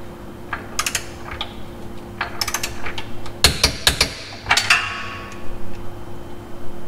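A torque wrench checks a car's through bolt and 12 mm vertical bolts set to 42 foot-pounds. Sharp metallic clicks and ratcheting taps come in irregular bursts, close and fairly loud, with no talking.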